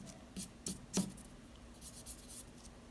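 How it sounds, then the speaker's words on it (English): A pencil measurement dot being erased on drawing paper, heard as a few faint, short rubbing strokes in quick bursts, close and quiet, with no talking. "Go ahead and erase out your original measurement dot."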